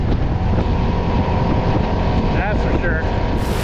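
A CFMOTO motorcycle engine drones loudly and steadily while riding, buried in heavy wind rush against the microphone, with a couple of brief pitch shifts near the end as gears change.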